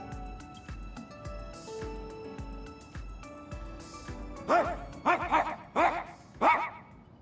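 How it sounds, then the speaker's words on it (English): A dog barks several times in quick bursts, loud and close, over a steady thumping soundtrack with a music bed in Honkai: Star Rail. "Why is there a dog barking?"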